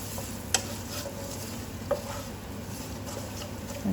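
Onions frying with turmeric and Kashmiri chili powder, stirred in the pan: a steady close sizzle with a few sharp spoon scrapes and clinks scattered through, no speech over it.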